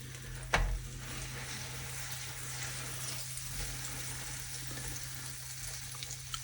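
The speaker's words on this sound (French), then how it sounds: "on va mettre nos pains à toaster en douceur. Comme ceci. Côté beurre sur la plancha." Buttered bread slices toasting gently butter-side down on a plancha griddle, giving a soft, steady sizzle with a brief clatter near the start, no talking.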